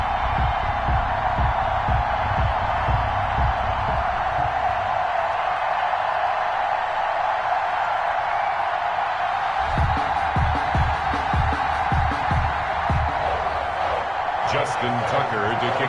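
A sold-out stadium crowd roars steadily throughout an EA Sports NFL video game on PS4 as the Patriots face the Ravens, a loud continuous wash of cheering under ongoing commentary.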